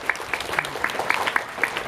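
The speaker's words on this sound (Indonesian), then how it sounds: "Tepuk tangan buat Bu Heni." Applause for a woman at a building inauguration for a hotel school, a smaller crowd whose individual sharp claps stand out irregularly over a softer clapping bed, close and moderately loud.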